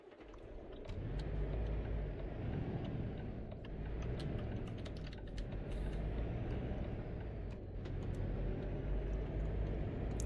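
A truck in Euro Truck Simulator 2 drives along a British motorway, giving a steady loud engine drone and road rumble that swells slightly at times, with no talking.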